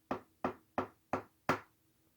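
Five firm knocks on a surface, evenly spaced about a third of a second apart, loud and close with nothing else around them, imitating something banging on the outer wall of a bedroom.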